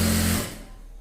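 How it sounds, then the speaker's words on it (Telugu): An electric sewing machine stitches chudi pant fabric in a short, steady motor whir that stops abruptly after a moment, leaving faint room noise. "సన్నగా ఒక కుట్టు లాగేసుకొని ఇలా కుట్టేసుకుంటే సరిపోతుంది."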